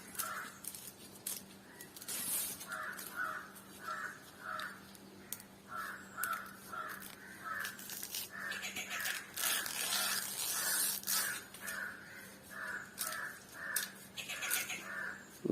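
Crows caw outdoors in repeated short bursts, several calls in quick runs with brief pauses between them, moderately close over a quiet background.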